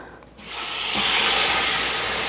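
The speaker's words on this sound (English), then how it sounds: "What we are going to do is let it sear on both sides." Meat hits a hot pan for keto low-carb cooking, bursting into a loud, close hissing sear after a brief quiet moment and holding steady to the end.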